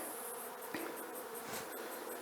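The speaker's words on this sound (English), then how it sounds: "You've got some bees on the outside" Honey bees from a summer swarm, clustered on the outside of a closed basket, hum in a steady, fairly quiet drone, with a few individual bees buzzing closer now and then.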